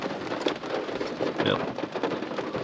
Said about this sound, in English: So wet. Just pouring down.